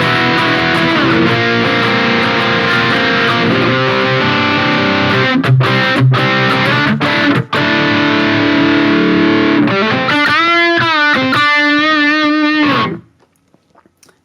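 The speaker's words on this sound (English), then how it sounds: "Here we have one preset with the Mesa Mark IV. Crunch preset, also very nice." An electric guitar plays through a Fractal FM9 modeler set to a Mesa Mark IV crunch preset. The loud, distorted playing runs continuously with chords and a few sharp stops, then ends in a bending sustained note that cuts off abruptly.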